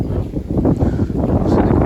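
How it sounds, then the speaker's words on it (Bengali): Strong wind roars and buffets the microphone, a loud, steady low rumble with gusty surges. "প্রচুর বাতাস বইতেছে"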